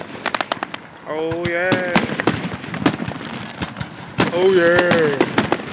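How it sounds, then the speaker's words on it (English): Fireworks bursting overhead at a show, a rapid run of sharp pops and crackling bangs, some close and loud, with people's voices talking and exclaiming over them. "There's fireworks in the sky."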